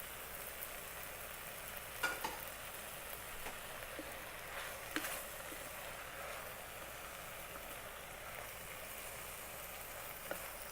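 Tomato, chopped cilantro and mushroom frying in an Instant Pot for Indian-style curry pasta: a steady faint sizzle with occasional soft stirring taps, close and alone.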